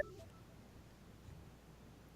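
Telephone dialing tones at the very start, a brief bright keypad beep, then only a faint low hum of line noise with no talk.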